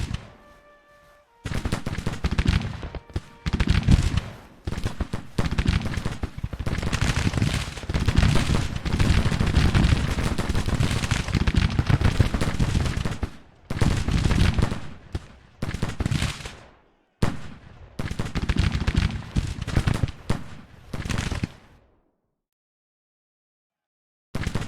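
Soldiers firing rifles in a Civil War game: dense, ragged volleys of gunfire crackle almost continuously, broken by short pauses, then stop near the end.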